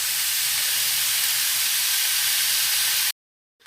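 Mince, peppers, onion and mushrooms cooking together in a pan on a campervan stove, a loud steady close-up sizzle and hiss that cuts off abruptly near the end.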